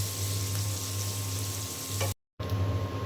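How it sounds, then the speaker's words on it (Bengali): Chopped onion fries in hot oil with cinnamon and cardamom, a loud, steady close-up sizzle with a constant hum beneath, cut off abruptly for a moment before the sizzling resumes. "এখন দিয়ে দিলাম আমি পেঁয়াজ কুচি।"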